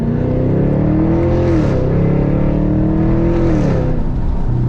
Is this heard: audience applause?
no